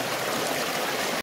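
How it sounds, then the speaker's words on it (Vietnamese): A clear forest stream flows steadily and close by, a dense, even rush of water with no voices, cutting off abruptly at the very end. "Suối nước trong vắt, mát lạnh luôn."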